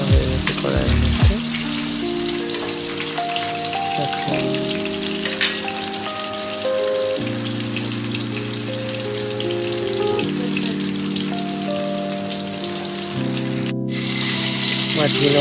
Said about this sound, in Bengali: মাছগুলো অর্ধেক ভাজা হয়ে গেছে